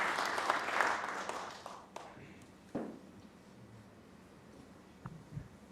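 Snooker audience applause in a tournament quarter-final arena swells at the start and fades over a few seconds, followed by a few scattered claps and quiet room noise.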